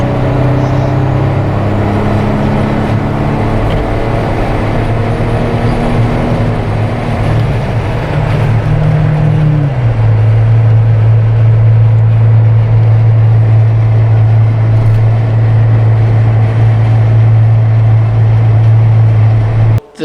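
Interior road noise of a car on a highway test drive with a roof light bar fitted, a loud steady engine and tire drone whose pitch shifts upward partway through, without wind whistle.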